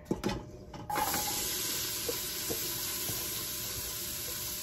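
Celery and other vegetables hit a hot pot for chili and start sizzling, a sudden clatter then steady frying hiss that carries on alone.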